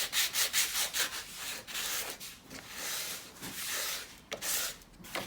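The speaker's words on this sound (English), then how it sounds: "Now you won't be able to see it, but I'm just sanding it." A wooden play button is sanded by hand on a workbench, giving close, loud rhythmic scratchy rubbing strokes, quick at first and then longer, steadier passes.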